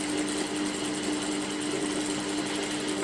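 A sewing machine runs steadily, stitching seam allowances to a garment facing, a close continuous whirring hum with a fast even needle rhythm throughout, stopping with a small clunk at the end.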